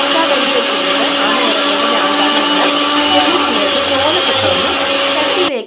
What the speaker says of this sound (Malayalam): തേങ്ങയിൽ കുറച്ച് മുളകും മഞ്ഞളും ഒക്കെ ഇട്ടിട്ട് അവിടെ അരക്കാൻ വേണ്ടി വെച്ചിട്ടുണ്ട്